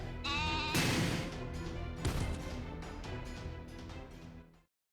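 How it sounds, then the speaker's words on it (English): Sheep bleating in the video game Fate/Grand Order, several loud overlapping bleats with crashing effects, cutting off abruptly near the end. "Sheep! Sheep everywhere!"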